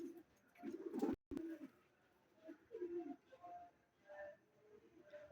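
Rajshahi giribaj pigeons cooing in soft, low, throaty bursts, several calls repeating at irregular intervals, close but faint against a quiet background.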